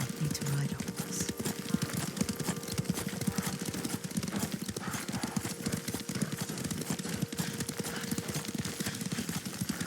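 Steady rhythmic clip-clop of horse hooves at a trot in Ghost of Tsushima, continuous and fairly close, with a voice speaking faintly underneath.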